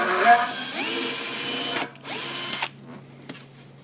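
A power drill with a 3/8 bit bores holes into a 2022 Subaru BRZ's rear for a diffuser install, a close, loud whining burst, a short pause, then a second run, followed by faint clicks.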